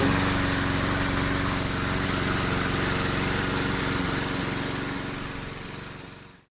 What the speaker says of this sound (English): the lawnmower,